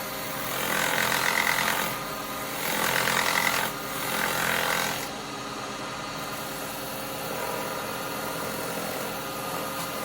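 A steady whirring lathe hum with bursts of raspy 400-grit sanding on a small wooden bowl, swelling and fading in three passes before settling into a quieter drone.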